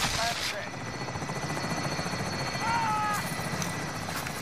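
A helicopter in the video game Call of Duty Warzone, a steady rhythmic rotor chop heard close and loud throughout, with game effects layered over it.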